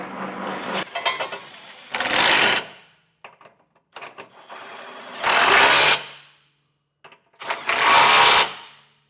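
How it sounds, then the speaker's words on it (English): A ratchet with a 19mm socket tightens trailer hitch bolts in three loud, close bursts of rapid clicking, with short pauses and faint handling noises between them. "We'll tighten everything down with a 19mm socket."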